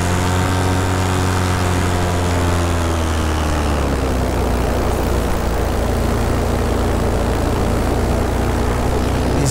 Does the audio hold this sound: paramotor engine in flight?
yes